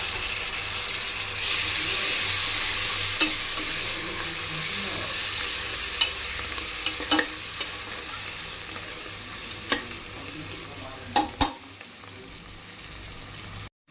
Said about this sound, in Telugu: మసాలాలన్నీ వేగిపోయినాయి.